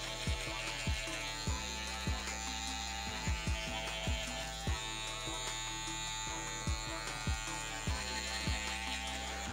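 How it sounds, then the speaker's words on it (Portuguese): An electric hair clipper buzzes steadily and close as it is run upward from below through hair during a haircut, a constant hum with faint rhythmic ticks as it passes over the head. "Trabalhei com a máquina ao contrário e agora de baixo pra cima, tirando aqui a própria marcação da nossa máquina"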